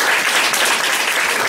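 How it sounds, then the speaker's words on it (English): Loud, dense applause from an audience thanking a speaker after a talk on seasonal affective disorder, a continuous roar of clapping with no break. "please join me in a round of applause for our speaker"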